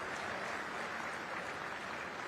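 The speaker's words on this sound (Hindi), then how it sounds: "मुझे लगता है ताली वाली तो मिलना" An audience claps in a dense, sustained burst of applause, filling the whole moment at an even, moderate level with no voices over it.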